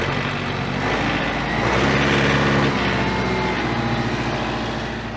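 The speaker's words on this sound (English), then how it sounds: "And so we're going to speed up our engine." A tractor engine revs up to a higher RPM to drive the pump of a pasture sprayer, a steady loud close drone that swells in the middle and holds, with no talk over it.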